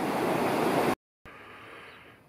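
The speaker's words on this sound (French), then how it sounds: "mais petite cascade" Small cascade along a hiking loop in a limestone valley near Baume-les-Messieurs, France: steady broadband rush of falling water, close and fairly loud, cut by a brief silence before continuing slightly softer.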